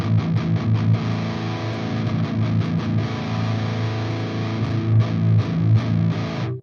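Heavily distorted electric guitar through chained distortion pedals chugging chords, loud and saturated, with a thick, compressed buzz and rhythmic palm-muted bursts.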